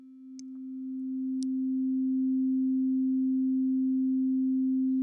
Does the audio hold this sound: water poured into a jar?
no